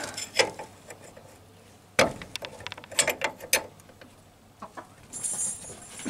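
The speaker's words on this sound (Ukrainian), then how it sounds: "Болт не йде, треба спробувати його проворачувати." A 22 mm wrench working a stuck bolt on the front suspension of a VW T3 van, with sharp metallic clicks and ratcheting knocks in irregular bursts, fairly quiet and close.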